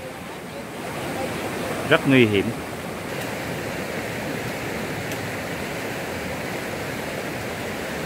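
A flowing mountain stream beside a forest campsite, a constant broad rushing of water throughout, with someone speaking briefly over it.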